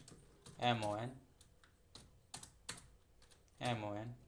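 Faint, scattered clicks of a computer keyboard being typed on while entering text into an Excel spreadsheet, falling in short bursts between a person's spoken explanation.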